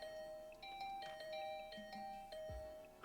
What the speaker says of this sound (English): started to furiously ring the bell over and over.